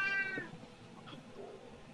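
A black cat howls once at night, a short wavering meow that fades quickly, followed by quiet background.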